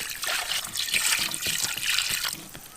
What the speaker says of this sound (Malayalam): ഇനി നമുക്ക് ഒരു പാത്രം ശുദ്ധമായ വെള്ളം വേണം നമ്മുടെ ചിക്കൻ മുങ്ങി കിടക്കുന്ന രീതിയിൽ ഇതിലേക്ക് നിറച്ചെടുക്കാം